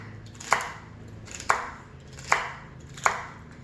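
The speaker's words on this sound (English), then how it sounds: "slice the ribs a bit. Got the wrong knife for slicing. And just chop, chop, chop." A knife chops through celery ribs on a cutting board in four crisp, evenly spaced strokes, close and fairly quiet, with no talking.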